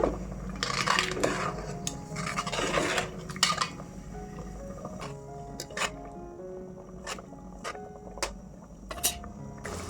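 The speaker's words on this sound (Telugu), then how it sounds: "వేడి నీళ్ళల్లో ఇలా స్పూన్ పెట్టి బాగా కలిసేలాగా మిక్స్ చేసుకోవాలండి" A spoon stirring a paste into hot water in a pot, with clinks and scrapes of metal against the vessel in irregular bursts, close and fairly quiet, with no talk.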